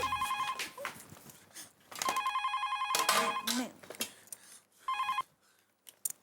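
A telephone bell rings in repeated bursts, loud and close, with brief gaps between rings and some faint background noise.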